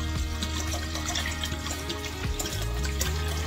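Tap water runs steadily into a pan for pickled jalapeño brine, a continuous close rushing splash with no pauses.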